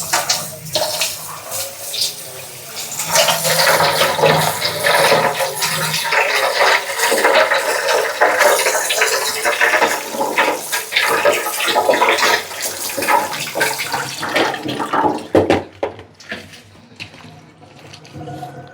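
Running water rinses chopped radish in a strainer in a home kitchen in India, a steady broadband gush that continues for about fifteen seconds, then tapers off to quieter trickles and drips at the end.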